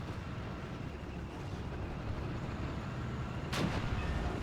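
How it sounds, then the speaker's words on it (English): A tank's fuel detonating in the WWII strategy game Steel Division, heard as a sudden broadband burst near the three-and-a-half second mark over a steady rumble of engine and battle noise. "And there we go, fuel explosion."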